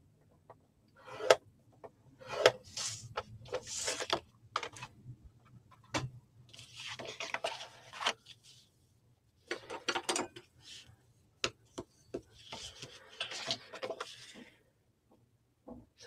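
A paper scoring tool on a scoreboard presses and drags across a sheet at 3/4 inch, giving quiet, close scratchy strokes and light clicks in short irregular bursts separated by silences.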